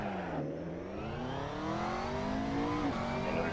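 A race car engine in Assetto Corsa on PS4 revs continuously close up, its pitch dipping and climbing through the gears under a steady loud roar, with no talking.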